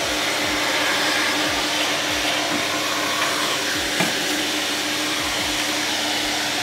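A vacuum cleaner runs steadily while cleaning the dusty inside of a PC tower, its continuous loud whine and rush rising and dipping slightly as the nozzle and a brush move over the components.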